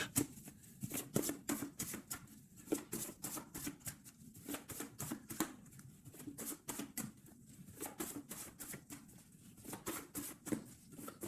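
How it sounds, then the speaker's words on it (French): A tarot deck is shuffled and cut by hand, giving a rapid series of close, crisp riffling card slaps and taps in irregular bursts, quiet and without talk. "pour notre empereur, on va faire la coupe."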